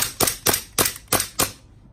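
WE Glock airsoft BB gun firing six sharp, evenly spaced shots in quick succession, close up, then silence.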